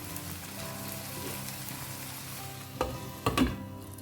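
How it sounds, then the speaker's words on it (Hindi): Tomatoes cooking under a lid in a pan for paneer tikka masala give a steady low sizzle, with a couple of brief louder clatters near the end. No one speaks. "ऐसे ढककर ना टमाटर सॉफ्ट होने तक हमें इसे कुक करना है।"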